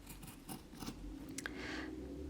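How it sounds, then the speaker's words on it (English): Scissors cut through fabric in a run of quick, crisp snips, several close-up clicks followed by a longer slicing sweep, heard alone at close range. "When you're cutting your fabric, try using mainly the back edge of the scissors."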